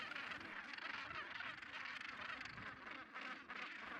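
Dense, continuous clamour of a huge northern gannet nesting colony, tens of thousands of seabirds calling at once in a steady harsh din with no pauses, heard without talk.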